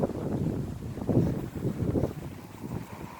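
Wind on a cloudy autumn day buffets the microphone in steady, rumbling gusts that rise and fall for a few seconds, with no voices.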